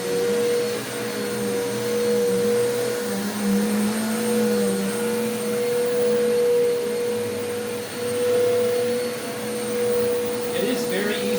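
A Eureka Boss Capture bagless upright vacuum cleaner runs close and loud with a steady motor whine and droning hum that stays constant throughout, no talking.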